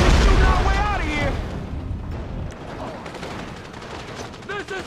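A heavy explosion followed by scattered gunfire in GTA 5, the boom loud at the start then decaying into rumble and sporadic shots, with talk over the action.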